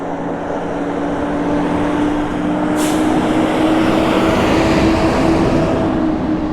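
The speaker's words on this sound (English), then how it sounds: "I could hear the truck coming from a mile away because of the sound of, the sound of him hitting the gas as he goes." A truck passes by close on a road, its engine roaring steadily as the driver accelerates, with a brief hiss midway through the pass and no voices.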